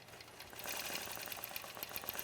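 A sewing machine running steadily, stitching in the ditch around an applique, its fast even needle clatter close but fairly quiet, with no talking over it.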